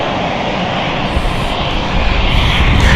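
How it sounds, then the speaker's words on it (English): A KLM airliner taxis at London City airport, its engines giving a steady, loud broadband roar that swells slightly toward the end, with no talking. "KLM taxiing now."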